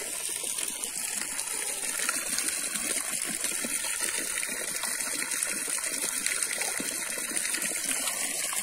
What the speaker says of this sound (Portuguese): e agora ela vai para a água